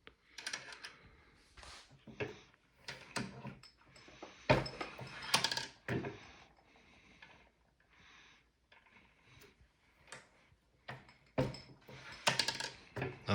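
A reloading press works 300-grain .44 Magnum cartridges in quiet, irregular bursts of metallic clicks, clunks and brass rattles, close and fairly soft, with pauses between strokes.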